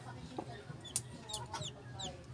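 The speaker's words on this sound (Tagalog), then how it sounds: "Ayan na mga kabakyard, nandito na nga po yung ating sisiw" Crossbred hen clucks softly near a newly hatched chick in a backyard, with scattered short calls and faint thin peeps over low background noise.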